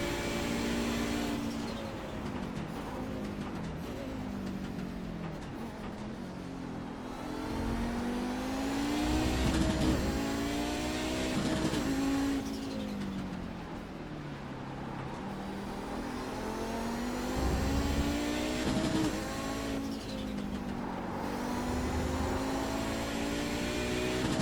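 Race cars drive hard around the Road America circuit, engines revving and shifting through rising and falling pitch sweeps, with several cars passing loudly and continuously throughout.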